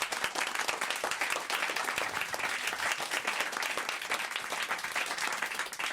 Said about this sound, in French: je reprends quand même sur des applaudissements